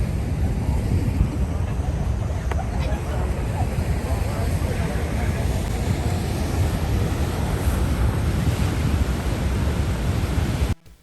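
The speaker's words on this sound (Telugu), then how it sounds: "అది వచ్చేసి హార్స్ షూ వాటర్ ఫాల్స్" Horseshoe Falls at Niagara Falls, on the Canadian side, produces a dense, steady roar of falling water that fills the whole stretch evenly before cutting off abruptly at the end.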